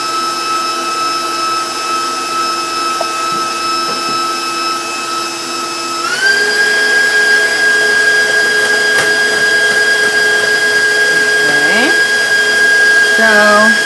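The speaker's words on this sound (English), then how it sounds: "I'm lifting the bowl so I make sure that the beater hits the bottom of the bowl." An electric mixer whips cream for gelatin-stabilized whipped cream, a loud steady whine that rises in pitch midway as the bowl is lifted so the beater reaches the bottom, running continuously throughout.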